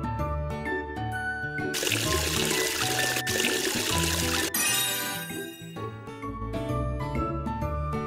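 Splashy pouring water for rinsing characters' faces in a kids' bedtime-routine cartoon game, a bright rushing burst lasting a few seconds over steady background music.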